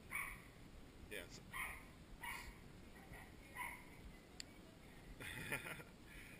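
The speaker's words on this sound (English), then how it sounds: "Yeah, I noticed the yappy dog the other time I was here too." A small yappy dog barks in quick, repeated yips at moderate distance in a home setting, with brief bursts spread across the clip and people talking faintly around it.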